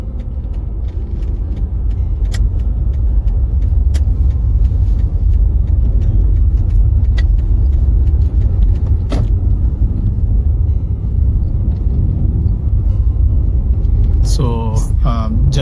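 Car pulling away and driving on the road during a summer driving test in Edmonton, a loud steady engine and road rumble inside the cabin, with a few clicks and a brief voice near the end.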